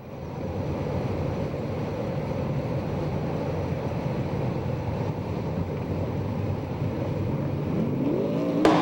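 USAC/CRA sprint cars race around the track mid-event, heard as a steady, distant engine roar blended with wind buffeting the microphone, unbroken throughout with no voices.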